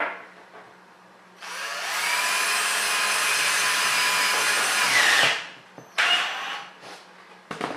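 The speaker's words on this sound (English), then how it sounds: "It's not really made to be drilled in against the grain like this." A power drill drives screws into MDF board, whirring steadily for several seconds at close range before winding down, followed by a few short bursts and clicks.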